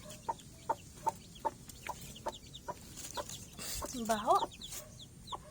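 A hen clucks near her chicks, regular soft clucks at an even pace, then a brief louder squawking flurry, faint and close, with a short spoken word.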